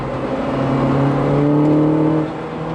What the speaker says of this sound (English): Induction noise, the noise from that car.